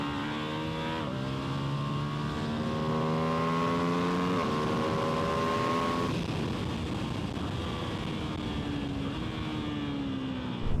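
A Ducati Multistrada V2 S motorcycle engine holds a steady, loud drone with rising and shifting pitch as it revs hard, continuous and close throughout with no talk.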